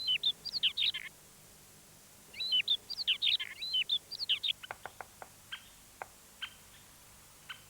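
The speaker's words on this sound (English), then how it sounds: "in spring, the woods echo with the sound of birds" Several birds sing in spring woodland beside a marsh, with bursts of high, twittering chirps and trills followed by short, sharp call notes, fairly close and clear against a quiet background.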